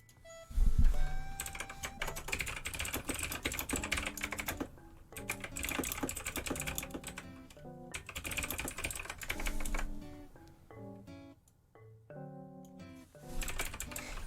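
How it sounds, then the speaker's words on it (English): Rapid computer keyboard typing with dense, irregular key clicks and bursts, close and fairly loud, with brief pauses between runs and no speech. "Keyboard ASMR."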